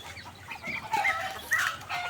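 Native chickens cluck in short, bright bursts on a small backyard mini farm that also keeps ducks, the calls close and clear over a quiet outdoor background.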